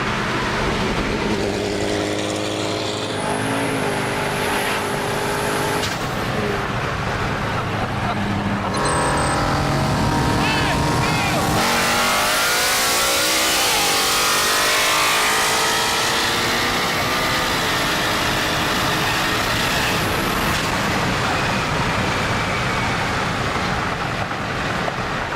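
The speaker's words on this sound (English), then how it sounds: "That thing pulled out hard out of the hole." A turbocharged drag car running about 25 psi of boost launches hard off the line at a Texas street-racing event, a loud broadband engine roar building and sweeping upward, then sustained, dense and close.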